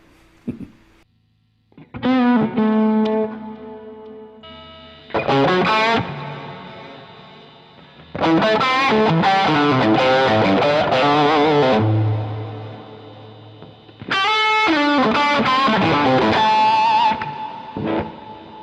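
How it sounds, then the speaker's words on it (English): Electric guitar plays in bursts of chords and riffs, drenched in reverb and echoing delay, with short pauses between phrases. "so there's a lot of reverb and delay on it."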